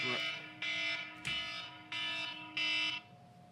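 Wake-up alarm going off nearby, a loud buzzing electronic tone in five repeated pulses, each about half a second long, with short gaps between.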